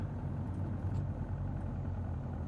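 Piper PA28R Arrow III engine idling in Microsoft Flight Simulator, a low steady rumbling drone that holds evenly throughout at moderate volume.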